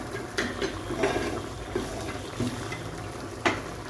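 Beaten eggs sizzle in a pan with okra curry, a steady frying hiss with small stirring clicks and spatula taps scattered through.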